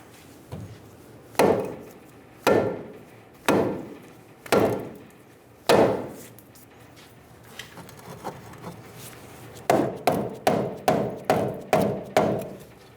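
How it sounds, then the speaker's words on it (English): A soft face hammer strikes a steering knuckle on a 2000-2007 Ford Focus strut with five spaced, solid blows, then a quick run of lighter rapid taps, close and loud with no talking. "Using a soft face hammer, we're going to bonk the knuckle down and get it off of the strut."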